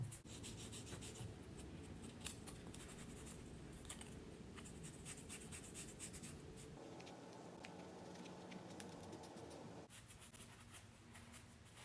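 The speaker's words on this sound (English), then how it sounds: "I'm going to start painting these rings black now." A paintbrush scratches and rubs black paint onto cardboard rings cut from toilet paper rolls over a plastic sheet, making soft, irregular strokes that are faint and close, with a brief steadier hum partway through and no talking.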